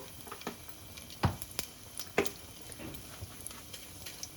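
Fenugreek, mustard seeds and urad dal crackling in hot oil for a curry, a soft continuous sizzle broken by scattered sharp pops and two louder bursts, close and without any talking.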